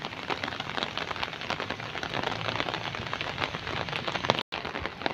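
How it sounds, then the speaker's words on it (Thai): Heavy rain pours down in Chiang Mai, Thailand, as a dense, constant hiss of drops drumming on surfaces with no break in intensity, stopping abruptly for an instant near the end. "ฝนตกหนักมากดูแบบนี้ในกล้องจะไม่เห็นเนาะ"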